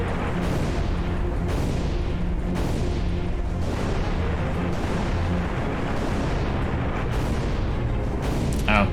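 Repeated booming blasts and shots from ships being destroyed in a cheap PC arcade shooter, a dense, steady barrage of loud explosions with music underneath and no clear talk.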